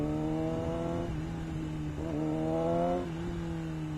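A Honda CBR 250 motorcycle engine revs up and down, its steady idle hum rising into two strong throttle blips before settling back to a loud, close idle.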